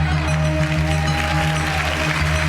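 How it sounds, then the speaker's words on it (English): A dramatic electronic sting for the Terminator on the Greed game show: a sustained low droning tone with pulsing noise above it, loud and steady throughout, with no voices. "that's the sound of the Terminator."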